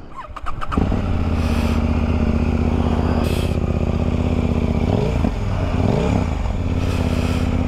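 A KTM 890 R Duke starts on a bitterly cold day after a few clicks, then idles steadily in neutral, loud and close, with a couple of brief throttle blips partway through.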